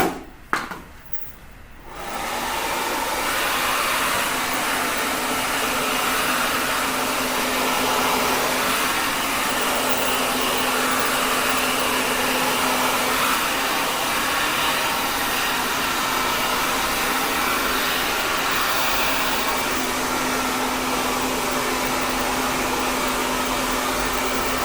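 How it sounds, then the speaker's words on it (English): A hair dryer fitted with a diffuser roars steadily and loudly for over twenty seconds while blow-drying hair into an 80s style, after a brief click as it starts. "we're going to blow dry it with the diffuser to make it rock hard"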